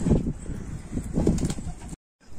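Pigeons in a coop coo in close, throaty bursts amid wing and shuffling noise, then fall briefly silent before the coop sounds resume.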